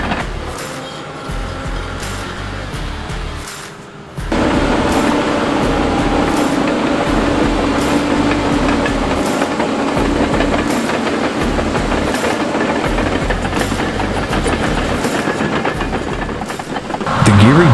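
A TC610E timber skidder on OnTRACK tracks drives over rough ground, its loud continuous mechanical rumble and rhythmic clatter steady throughout, swelling noticeably after a brief quieter start.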